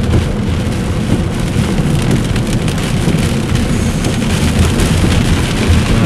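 Heavy rain pounds steadily and loudly on a vehicle during an Iowa tornado storm chase, a dense unbroken roar with low rumbling underneath throughout.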